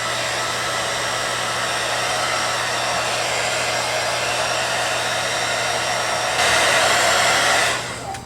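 A hair dryer dries freshly airbrushed acrylic paint, a loud, steady, close whirring blast that rises slightly near the end before switching off and winding down.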